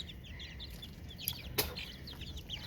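Frightened young chicks peep in rapid, high chirps alongside soft clucking from chickens, a busy, fairly faint farmyard chatter close by with one brief sharp knock midway.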